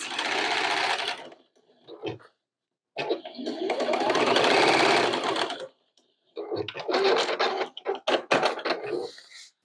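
A sewing machine stitches over fabric and paper card in three loud bursts of rapid mechanical whirring separated by brief pauses, the last burst choppy and stop-start, with no talk.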